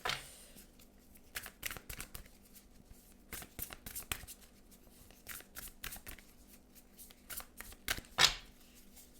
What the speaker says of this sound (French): non, je vais remélanger.